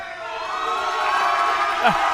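A wrestling crowd cheers and whoops steadily for Chris Marvelous during his match against Drako Nyx, a dense, continuous roar of many voices with a brief louder shout near the end.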